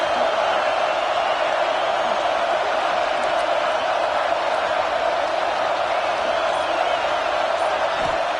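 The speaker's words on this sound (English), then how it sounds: "this crowd coming to life here, trying to help the defense get a stop with the offense pinned back" Stadium crowd at an American football game roaring in a steady, dense wash of cheering that holds loud and unbroken throughout, with no clear peaks or pauses.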